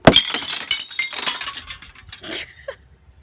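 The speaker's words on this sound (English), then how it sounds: "here's how the glass breaker works" An emergency glass breaker tool shatters glass with a sharp, loud crack, followed by a spray of tinkling shards and smaller clinks that fade over about two seconds.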